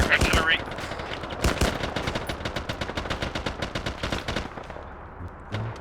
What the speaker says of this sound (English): Rocket launcher, artillery.